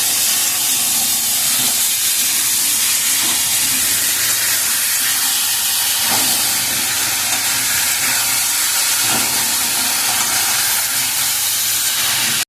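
Vegetables sauté in sunflower oil with chili, making a loud, continuous close-up hissing sizzle that stays even throughout, with no voices.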